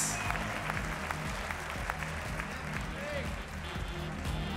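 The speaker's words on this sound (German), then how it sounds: "Und mit diesem Applaus" Spectators applaud at a World Series of Boxing fight night, the clapping fairly quiet and blended with background music while an announcer talks over it.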